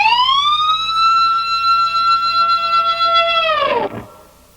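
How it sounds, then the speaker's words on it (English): A high, piercing G harmonic on distorted electric guitar, bent upward with the whammy bar and held in a bright, siren-like wail. It then dives sharply and cuts off, alone and loud throughout. "G harmonic bend"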